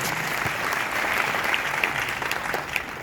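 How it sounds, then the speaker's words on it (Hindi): An audience at a DXN business meeting breaks into applause, a dense, continuous burst of clapping that stays loud for the whole few seconds. "एक जबरदस्त ताली होनी चाहिए।"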